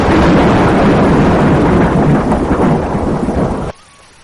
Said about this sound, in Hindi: मूसलाधार बारिश होती रही।